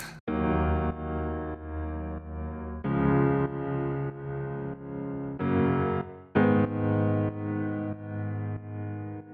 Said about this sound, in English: we just have the piano doing the chords, which is a preset from Augmented Piano